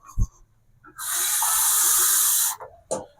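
A steady stream of water pours into a pot for about a second and a half, with faint clinks and brief sounds before and after.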